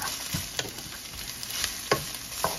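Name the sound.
vegetables sauteing in a pan for Singapore noodles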